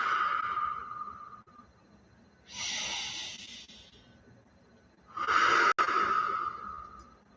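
Slow, deep breaths drawn in and let out during a mantra meditation, heard as soft airy hisses that rise and fade in long separated swells, close and fairly quiet, with no talking.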